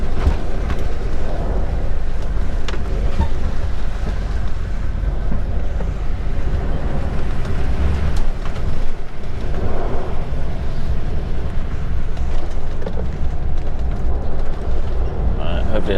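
Roof of a UK HGV curtain-sided trailer flexing while driving on a log-collecting run, a steady loud rumble of road and cab noise with creaks and knocks of the flexing roof mixed in throughout.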